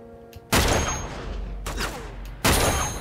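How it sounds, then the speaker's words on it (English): Sniper rifle fire in Uncharted 2: Among Thieves, two loud, sharp booming shots about two seconds apart, each with a long rolling echo tail, over faint game ambience. "let me use the sniper rifle while I have it"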